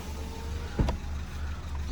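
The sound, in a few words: Ford Fiesta engine running quietly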